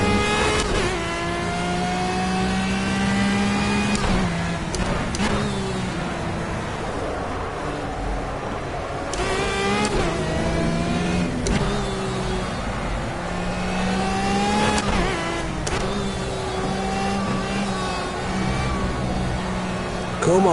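Screaming race car engine from a Project Cars time trial, climbing through gears in long rising sweeps and snapping down on shifts, loud and constant, with a voice talking over it now and then.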